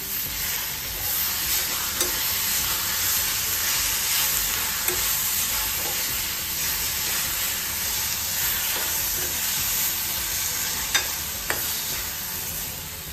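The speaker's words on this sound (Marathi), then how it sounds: "आता मस्तपैकी आपण एकजीव करून घेऊ आपण" Roasted brinjal bharit, Khandeshi style, stirred and mixed in a hot pan: a steady broadband sizzle and hiss runs throughout, with a few sharp utensil scrapes and clicks against the pan and no talking.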